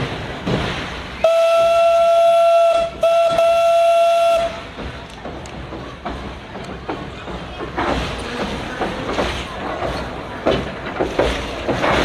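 Steam locomotive whistle blowing loud and close in a long tonal blast with a brief break, followed by the rumble and hiss of the steam train on a heritage railway.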